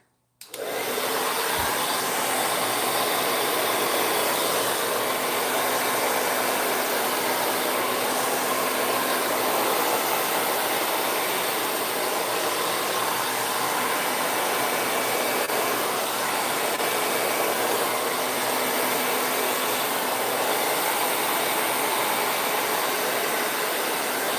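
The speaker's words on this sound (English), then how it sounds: "So here we go again with the hairdryer." A hair dryer blows across paint on a canvas in a loud, steady, unbroken whoosh that switches on abruptly and runs for over twenty seconds without a break.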